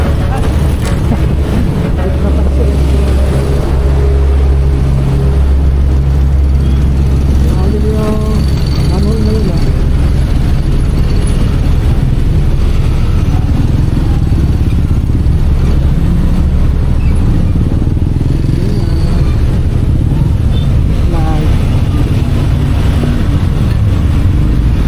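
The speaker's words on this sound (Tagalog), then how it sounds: "Mga motor nga lang." Motorcycles pass along a road in a loud, steady roar of engine rumble and road noise, heard up close throughout with faint talk buried in the din.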